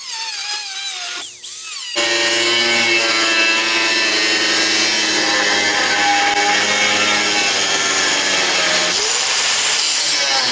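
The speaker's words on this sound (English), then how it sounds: "Just going to cut this out with a cutoff wheel." Angle grinder with a cutoff wheel cutting brackets out of metal in a performance fabrication shop, a loud sustained high-pitched whine with grinding rasp starting abruptly after a short quiet lead-in and running continuously.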